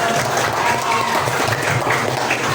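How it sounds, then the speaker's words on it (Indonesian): Applause from an audience of schoolchildren in a classroom-style gathering, steady dense clapping that runs unbroken and fairly loud throughout. "Tepuk tangan."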